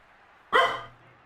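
A dog lets out one sharp, loud bark up close, startled by fireworks going off outside, with a brief trailing tail and quiet room before and after.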